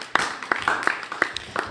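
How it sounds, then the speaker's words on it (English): A school event audience claps for students at Palmyra High School. Scattered, sparse claps come at a fairly steady pace over a short stretch. "Let's give them a round of applause."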